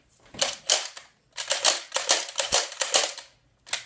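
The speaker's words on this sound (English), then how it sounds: "you load it, cock it, like every other gun" A toy Nerf gun is loaded and cocked, giving a run of sharp plastic clicks and snaps in quick, uneven bursts, close and fairly loud, with short pauses between.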